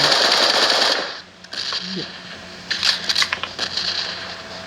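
Automatic gunfire in the mobile game PUBG Mobile rattles loud and fast for about a second, then scattered shorter bursts and clicks follow at lower level.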